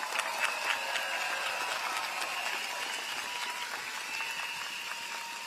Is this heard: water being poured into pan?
no